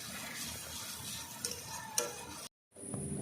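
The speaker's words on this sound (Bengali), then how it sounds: "পেঁয়াজটা একটু ভালো করে ভেজে নেব যাতে কাঁচা গন্ধটা বেরিয়ে যাবে" Soft, continuous sizzle of onions frying in a pan, with a few faint stirring ticks, quiet and close before a brief cut.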